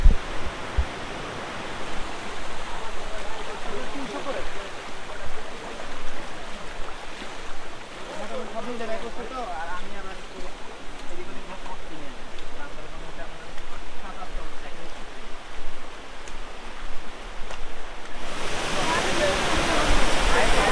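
The Na-Kata waterfall deep in Bilaichari, Rangamati, roars as a steady broadband rush with faint indistinct voices mixed in, then swells noticeably louder and brighter near the end.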